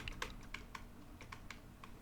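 Keys are pressed on a computer keyboard, including the backspace key, in a quick run of light, close clicks that come in small bursts over quiet room noise, with no speech.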